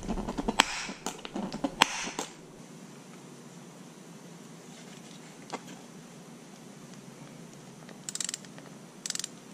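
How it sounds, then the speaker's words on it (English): Screws driven into a body panel on a 2019 Mustang during a dashcam install, short bursts of whirring and ratcheting near the start, then quiet room tone with a couple of brief mechanical clicks at the end. "already screwing into the body panels"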